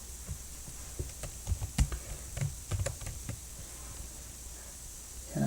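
Computer keyboard typing while entering AVR EEPROM write code, a quiet scatter of key clicks in short bursts over a low steady hum, with no talking.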